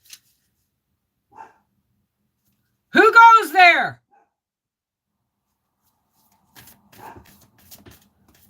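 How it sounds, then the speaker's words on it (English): A dog barks in one loud, close burst of several quick barks, with a person speaking briefly before and quieter voices and movement afterward. "the dog is barking"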